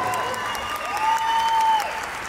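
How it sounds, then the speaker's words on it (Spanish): Audience applause at an acoustic concert, a dense continuous clapping from a crowd with a voice calling out over it and a sustained tone ringing through. "¡Aplausos!"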